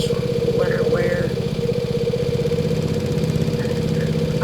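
A tractor engine idles steadily with a low, knocking mid-range rumble that holds even and close throughout.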